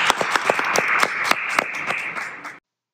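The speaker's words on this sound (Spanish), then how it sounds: "Un aplauso a todos y a todas." A small audience claps at a Mexico City government announcement, with distinct individual handclaps in a loose rhythm, fairly close, before the sound cuts off abruptly.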